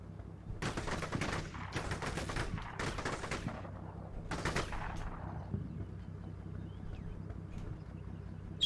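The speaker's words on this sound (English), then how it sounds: "So there's a machine gun fire from this direction" Bursts of machine gun fire in Combat Mission: Cold War, several rapid rattling volleys close together over the first five seconds, then a fading reverberant tail with low battlefield rumble beneath.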